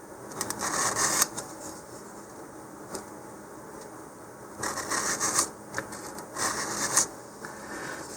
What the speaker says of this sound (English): sandpaper here and just lightly sand this